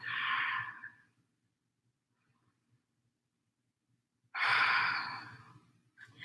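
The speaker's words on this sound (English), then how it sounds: "pause here for 3 deep breaths" Deep breathing during a yoga flow, two long, close, breathy exhales separated by about three seconds of near silence, with the start of another breath at the end.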